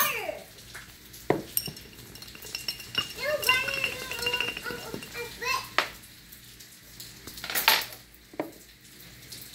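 A spoon stirs a Manhattan cocktail in a glass, giving a few light, separate clinks against the glass spaced a second or two apart, with faint background voices and kitchen sounds.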